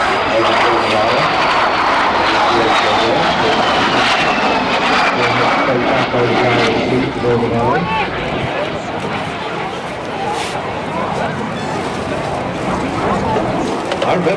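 A de Havilland Vampire FB.52 jet with a centrifugal-flow turbojet flies past at an air show, a sustained loud roar with a slowly falling whine as it passes, continuous over outdoor crowd noise.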